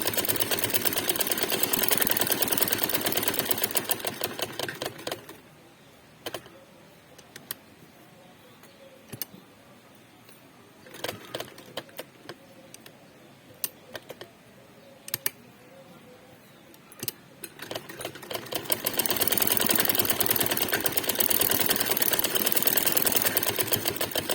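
An electric sewing machine stitches a gathered frock, running loud and continuous at the start and again at the end. In between it falls to a quiet stretch of scattered ticks and clicks.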